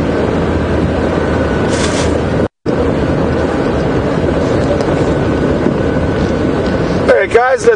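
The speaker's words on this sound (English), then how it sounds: "That wind." Strong wind buffets an open vehicle on an afternoon safari drive at Djuma Game Reserve, a loud continuous roar with a brief dropout partway through and faint voices near the end.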